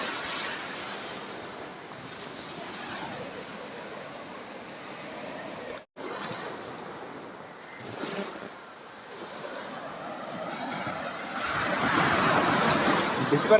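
Sea waves washing on a Kerala beach, a soft continuous wash with wind buffeting the microphone and a louder surge of surf toward the end.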